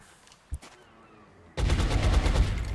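A single sharp shot in the video game XCOM: Enemy Within is followed by a pause, then a loud rapid burst of automatic gunfire that continues to the end.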